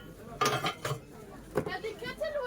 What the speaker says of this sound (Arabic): طقم حلل سيراميك سامعين الصوت؟